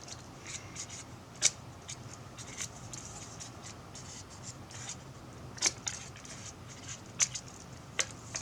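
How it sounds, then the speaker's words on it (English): Faint, close snips and rustles of small scissors cutting paper strips, a few sharper clicks standing out against a quiet room. "A pair of smaller scissors probably helps when it becomes a little bit more fiddly."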